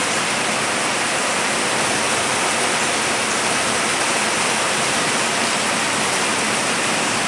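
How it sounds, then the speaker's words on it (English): Heavy rain pours down steadily outdoors, a dense, even roar of downpour that fills the whole stretch without a break, loud and close. "And in case you cannot hear already, pouring down rain."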